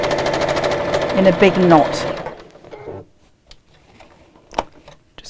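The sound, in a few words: sewing machine stitching fabric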